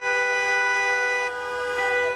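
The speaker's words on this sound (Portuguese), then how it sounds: "Motoristas que passavam pela Praça dos Três Poderes buzinavam." Passing drivers honk their car horns at a protest in Brasília's Praça dos Três Poderes, with loud, sustained, overlapping horn tones blaring nonstop.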